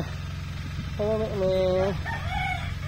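A rooster crows once, a clear nearby cock-a-doodle-doo with a shorter trailing note, over a steady low hum.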